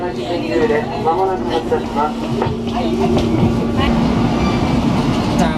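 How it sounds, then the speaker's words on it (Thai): A train rumbles steadily along the rails in Miyazaki, Japan, with a constant hum and faint clatter, while people talk nearby over the noise. "ก็นั่งรถไฟขบวนนี้นะครับ"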